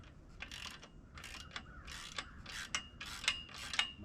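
A bolt on a Ridgid miter saw stand is tightened with a ratchet in short bursts of quick metallic clicks, separated by brief pauses, close and fairly quiet.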